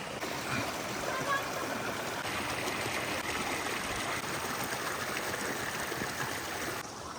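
Steady rushing water of a mountain stream flows continuously during rain, a dense broadband wash with a faint voice briefly underneath.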